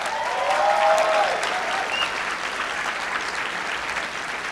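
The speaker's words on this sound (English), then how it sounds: "Can we give Eric Liu a round of applause again?" A conference audience at CitizenUCon17 breaks into a full, continuous round of clapping for Eric Liu, strongest early and then holding steady before easing slightly, with a brief voice rising over it near the start.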